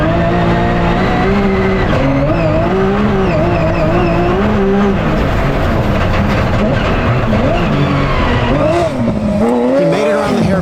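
Porsche GT3 Cup race car charging hard on a dirt rally course downhill into long S-turns, its engine note loud and continuous, revs rising and falling through gear changes with tires scrabbling on loose surface.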